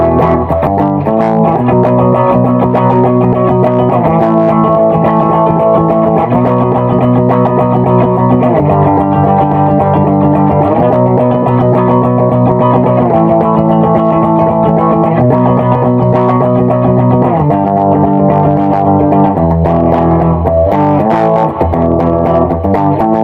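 Sustained electric guitar chords from a Carvin MTS3200 amplifier ring out with a washy, echoing reverb tail at setting 3, played continuously with steady loudness and no talking.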